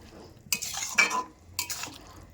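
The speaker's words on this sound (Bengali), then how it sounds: "তো দেখো নেড়ে চেড়ে নিচ্ছি" A spoon scrapes and clinks in a pan in two short bursts while a dry curry of Malabar spinach fruit with mustard paste is stirred, close up in a quiet kitchen.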